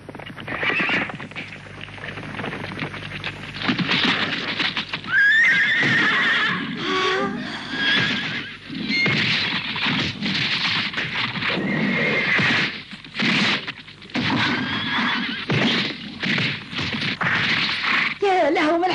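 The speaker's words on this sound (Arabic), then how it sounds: "يا له من حصان قوي" A powerful white horse neighs loudly and gallops, with shrill whinnies and rapid hoofbeats surging up close, alongside crashes and other action noises, while voices are heard in between.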